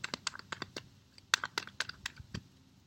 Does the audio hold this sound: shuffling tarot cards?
yes